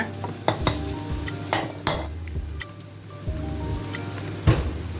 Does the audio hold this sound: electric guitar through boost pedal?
no